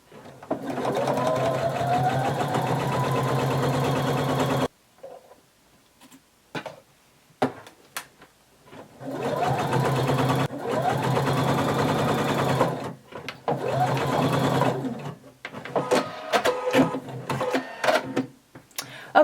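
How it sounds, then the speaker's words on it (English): A sewing machine stitches the center back seam of a little black dress, running in a steady mechanical whir for several seconds, pausing, then resuming in shorter bursts, close and loud. "now that we have sewn our center back seam"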